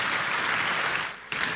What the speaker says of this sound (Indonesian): Kasih tepuk tangan yang meriah untuk Tuhan Yesus.